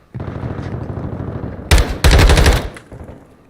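M4 rifle fire in Call of Duty MWII, with a rapid rattling automatic burst, then two loud, dense bursts close together before fading out.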